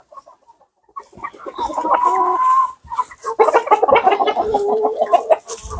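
Chickens, including a white hen, cluck close by on a farm, with a burst of clucks and then a busier run of overlapping clucking calls.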